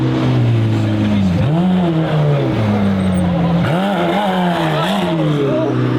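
A Lamborghini Gallardo Squadra Corse engine revs in sharp bursts, its loud, close growl rising and falling with a touchy throttle, while people talk nearby.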